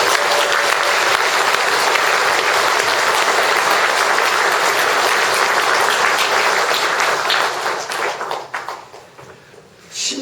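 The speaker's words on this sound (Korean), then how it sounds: "우리 서로서로에게 한번 큰 격려의 박수를" A large crowd at a Won Buddhist New Year ceremony applauds loudly and steadily for several seconds, the clapping thinning out and fading near the end.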